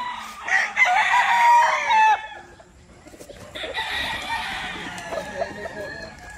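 A rooster crows loudly and close by, and chickens cluck nearby in the following seconds, with faint outdoor background noise.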